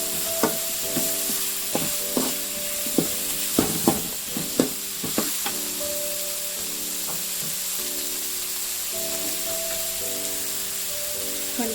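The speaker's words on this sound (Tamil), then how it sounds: "இப்போ தக்காளி, ஒரு 3 தக்காளி எடுத்துருக்கேன். இதையும் நல்லா ஃப்ரை பண்ணிடலாம்." Three tomatoes fry in a pan for a Tamil green gram masiyal, giving a steady sizzle with occasional sharp stirring clicks and a faint hum underneath.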